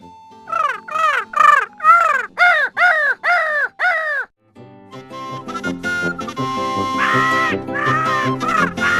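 A crow caws loudly seven times in a steady series, then a sustained musical tone with layered notes follows without any bird calls.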